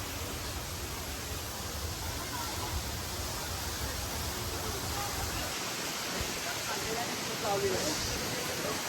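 A waterfall at Raigad fort roars as a steady, broad rush of falling water, constant and fairly close, with no break across the whole stretch.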